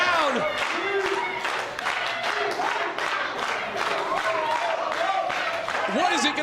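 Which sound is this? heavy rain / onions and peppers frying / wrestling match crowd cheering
wrestling match crowd cheering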